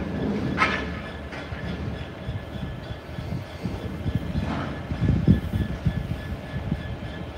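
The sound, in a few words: DB Cargo diesel locomotive revving up and down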